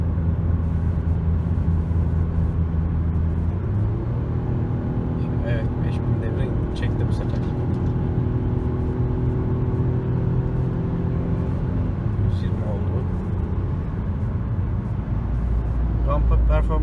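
A Ford Focus 1.5 Ti-VCT automatic climbs a long uphill grade at 110 km/h, heard from inside as a steady low engine drone and road roar with shifting tonal hum, constant and fairly loud throughout.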